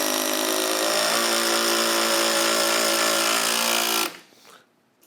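Milwaukee M12 FUEL Surge hydraulic impact driver sinking a 3-inch number 10 screw, a loud, steady buzzing hammer for about four seconds that stops abruptly, leaving a faint tail.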